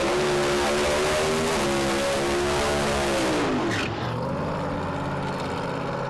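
A drag racing car makes a solo pass on a round 2 bye run, its engine roaring loud and high with a rising whine that sweeps down sharply as it passes, then a lower rumble fading away.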